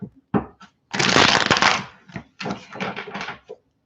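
Tarot cards being shuffled by hand in loud, close bursts of riffling and sliding, several separate rounds broken by short pauses.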